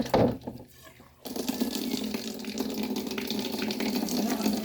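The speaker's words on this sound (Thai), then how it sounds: "เดี๋ยวเราจะไปแช่น้ำเกลือนะคะ ให้ขี้ดินออกจากตีนเห็ดนะคะ" Water running steadily from a tap into a basin while termite mushrooms are soaked in salt water, a continuous close hiss that starts abruptly after a brief quieter moment and holds at an even level.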